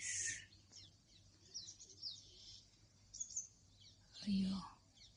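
Wild birds call in short high chirps scattered through quiet background, with a louder burst near the end; faint whispering voices can be heard underneath.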